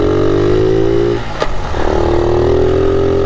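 1978 Honda Z50 minibike revving hard while being ridden, a loud buzzing small engine that climbs in pitch, drops briefly around the midpoint, then rises again.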